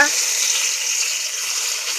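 Two bay leaves hitting hot oil in a wok, a loud, close, steady hiss of sizzling that holds evenly throughout without any talk.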